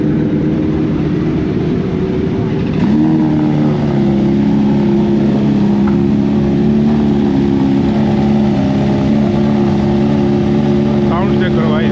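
A modified BMW S1000RR motorcycle engine roars loud and close, with a sharp rise in revs after a few seconds followed by a strong sustained drone while people talk nearby.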